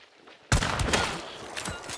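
Gunfire in Hunt: Showdown erupts abruptly out of near silence: a loud close shot followed by a rapid volley of further cracks and echoing reports, fading slightly toward the end.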